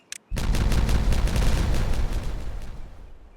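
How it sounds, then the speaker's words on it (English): Explosions in the beaver colony game Timberborn, a loud, dense burst of rapid blasts after a brief click, rumbling on and slowly fading over about three seconds. "Let's have some fun exploding things"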